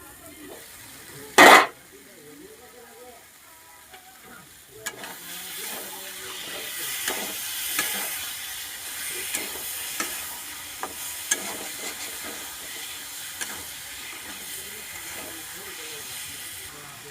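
Meat fries with spices in a pan that is then covered, giving a steady hiss of steam and sizzle. One loud knock sounds near the start, and small clicks and taps follow the sizzle.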